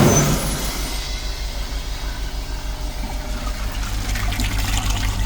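Water rushes steadily through a diesel particulate filter from a high-mileage Citroën Relay recovery truck during cleaning, a constant hissing flow over a low rumbling hum, fairly loud and unbroken.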